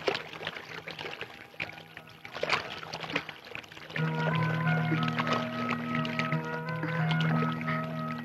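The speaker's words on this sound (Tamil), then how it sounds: "இப்படி பஸ்ட் தண்ணி கலக்கணும்." Water is poured and mixed into hot water for a bath in a Tamil film scene, with splashing and trickling that grows louder halfway through, under steady background music tones.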